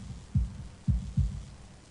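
A heartbeat sound effect from the visual novel Katawa Shoujo thumps low and soft, three deep muffled beats in a slightly uneven rhythm over a quiet hum.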